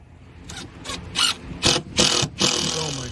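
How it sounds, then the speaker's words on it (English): A cap on a new boat fuel sender unit on a 1982 AquaSport is screwed down, several short ratcheting bursts close up with brief pauses between them. "I'm gonna go ahead and screw the cap down."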